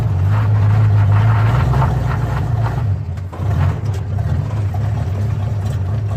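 A Chevrolet El Camino engine runs nearby in gear with a loud, low rumbling idle that dips briefly partway through before settling back to a steady drone, with no talking over it.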